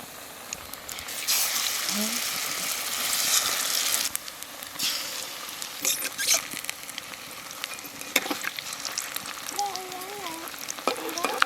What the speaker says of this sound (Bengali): তেল দিচ্ছি, তেল গরম হয়ে গেছে, এখন এইগুলান ছড়াবো তেলে।